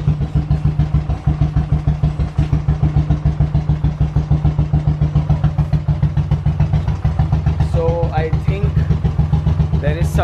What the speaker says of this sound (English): let's kickstart this bike